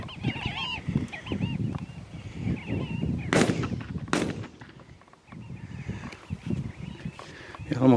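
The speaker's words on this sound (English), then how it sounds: "We're shooting the heck out of these sand grouse." Shotgun blasts crack out twice in quick succession while sandgrouse are hunted in South Africa, sharp loud reports amid honking bird calls and people talking nearby.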